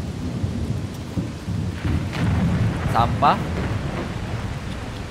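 Rain with rumbling thunder in the game Hobo Tough Life forms a dense, steady stormy wash, with a short spoken word breaking through partway.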